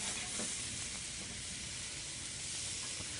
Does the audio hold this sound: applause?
no